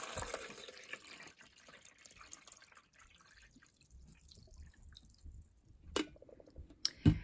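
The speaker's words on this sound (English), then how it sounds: "to brew a pot of coffee, you're going to open this up and pour your water in" Water poured into the reservoir of a Mr. Coffee drip coffee maker, heard as faint splashing and dripping with a few louder clunks and squishes near the end, recorded close up.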